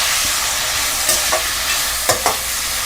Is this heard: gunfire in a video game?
no